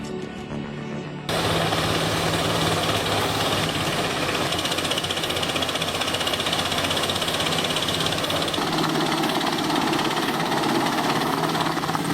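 A CT40-75 TTS forest residue chipper runs at full power, its engine a loud, dense, steady roar with rough mechanical rattle throughout, after a quieter opening second.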